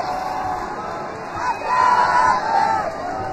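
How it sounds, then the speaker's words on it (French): A crowd at an antifa protest chanting together, a loud massed roar of voices that swells midway and holds steady, with a dense background of crowd noise. "Quelques ACAB qui se lancent dans la foule."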